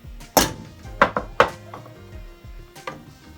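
Saltfish goes into a pot of Jamaican seasoned rice with a few sharp, close knocks and clatters, spaced irregularly, against a quiet background with no voices.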